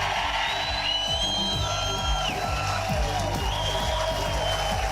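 Crowd at a political rally in Harrisburg, Pennsylvania, cheering and whooping with scattered yells over a steady, dense roar of many voices, continuous for the whole stretch.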